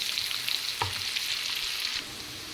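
Onions fry in a kadai with a continuous soft sizzle and faint bubbling, one brief louder stir or scrape partway through, no one speaking.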